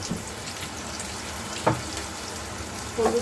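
Ingredients fry in a pan with a steady, dense sizzle throughout, broken by a couple of brief clinks and stirring sounds.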